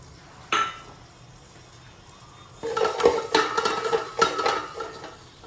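Whole spices such as black pepper, cinnamon, green and black cardamom and cloves are stirred in a rice cooker pot: a sharp knock, a pause, then a busy run of metallic scraping and clinks, close and loud with no talk.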